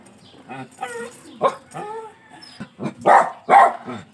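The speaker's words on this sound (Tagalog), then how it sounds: "Ayan ang mga aso ko." Several sharp dog barks and yips in quick succession, fairly close, with some whimpering between them.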